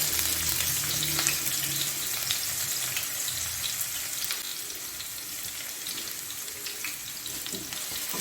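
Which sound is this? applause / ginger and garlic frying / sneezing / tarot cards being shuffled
ginger and garlic frying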